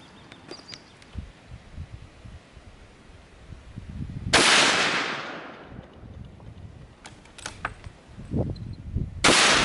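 An armor-piercing round fired at a Master Lock, one sharp loud gunshot with a decaying outdoor echo, then scattered handling noises and a second loud burst near the end.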